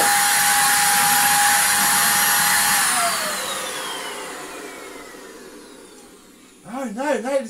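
A Belaco BUVC135 upright vacuum cleaner roars loudly at full power, then its whine drops in pitch and fades as it slows and winds down over several seconds, with a voice speaking over the end.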